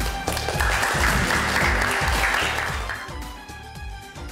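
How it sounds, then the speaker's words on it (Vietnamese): Applause at a Vietnamese wedding ceremony in Cà Mau, a crowd of guests clapping steadily and loudly over background music, then fading toward the end. "Xin giới thiệu cho một tràng pháo tay thật lớn."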